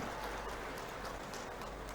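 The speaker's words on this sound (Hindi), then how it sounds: "ताली बजा के डॉक्टर साहब का स्वागत कीजिए" An audience at a public event welcoming Dr. Raman Singh breaks into applause, a steady, distant wash of many hands clapping at once that holds evenly throughout.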